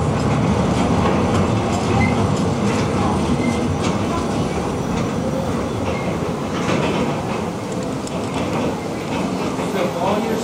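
Walt Disney World Railroad train running steadily, with a continuous loud rumble, wheel clatter and occasional squeal filling the whole stretch, and people talking faintly beneath it.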